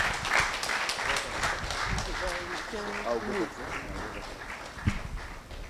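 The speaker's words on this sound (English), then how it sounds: "Let's give her a round of applause as she comes for the podium." An audience applauds a speaker approaching the podium at an event, broad steady clapping throughout while voices talk over it.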